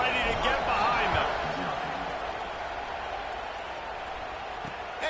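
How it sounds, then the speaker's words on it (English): A football stadium crowd roars after a touchdown kickoff, a broad loud swell that eases slightly, with a commentator talking over it. "This place is roaring"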